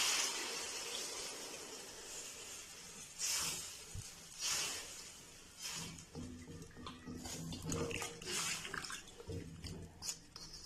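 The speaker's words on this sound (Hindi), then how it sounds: "और अब यहाँ पे हम डालेंगे पानी।" Water pours into a hot pan of frying vegetables with a sizzling, bubbling hiss, rising and falling in bursts, close up and moderately loud.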